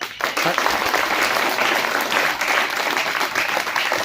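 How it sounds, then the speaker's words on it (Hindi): A room full of children claps together in continuous, dense applause that holds at a steady level throughout, with faint voices underneath. "ताली बजाओ बच्चे सब।"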